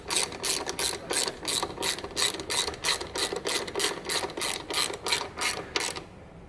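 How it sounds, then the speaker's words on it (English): Ratchet wrench tightening exhaust bolts on a Harley Davidson Dyna during a Danmoto Highwayman exhaust install, a steady run of about sixteen rapid clicking strokes, close and clear, with no talking. "Now we just tighten the bolts again."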